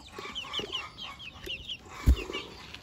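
A flock of chickens, hens and combed roosters, clucks at feeding time in a rapid run of short calls, close by, with a brief thump partway through.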